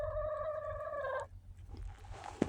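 Chickens in a backyard flock that includes Leghorns give a steady, sustained harmonic call for about a second, then fall to low rustling and faint scattered clucks over a constant low hum.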